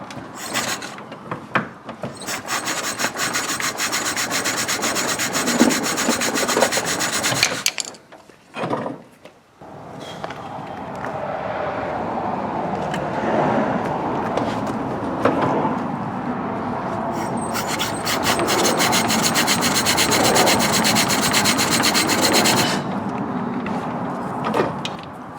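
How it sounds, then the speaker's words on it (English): An old BSA sports trike engine, unused for over 30 years, being cranked over without firing: long stretches of loud, steady mechanical churning broken by a brief pause, then more cranking. "Now we'll crank it over and see what happens."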